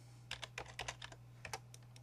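Keys clicking on a computer keyboard as a five-digit zip code is typed into a spreadsheet, a quick burst of crisp, close taps with short gaps, steady low hum underneath and no talking.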